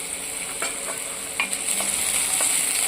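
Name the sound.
spring onion frying in hot oil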